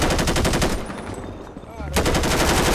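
Rapid automatic gunfire rattles in dense bursts in the GTA 5 roleplay game, loud and close, with a brief lull in the middle before firing resumes.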